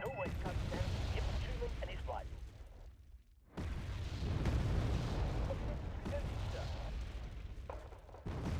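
Mortar fire in the war strategy game Wargame: Red Dragon, with dull rolling booms and explosion rumble layered under voices talking, moderately loud and dipping briefly mid-clip.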